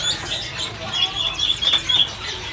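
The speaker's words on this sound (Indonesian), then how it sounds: "Untuk stok burung samyong yang sudah dipastikan ini jantan." Male samyong birds chirp and tweet in quick, high bursts, fairly close, with rustling and fluttering in the background, at a bird shop.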